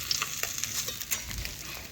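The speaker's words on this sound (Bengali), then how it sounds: "মাছগুলো ভালোভাবেই ভাজা হয়ে গেছে দুপাশে" Fish frying in oil until done on both sides, a faint, soft sizzle with small crackles and light pops, quiet and unaccompanied by speech.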